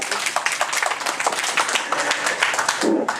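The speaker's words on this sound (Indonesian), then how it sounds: "Tepuk tangan untuk mereka berempat" Audience at a residents' housing-complex meeting applauds four volunteer workers, a dense burst of close hand clapping lasting a few seconds and tapering at the end.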